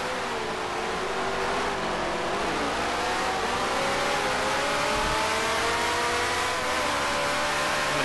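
A vintage Grand Prix race car engine in the Grand Prix Legends racing game drones loudly and steadily, its pitch rising and falling with revs through gear changes, with no talk over it.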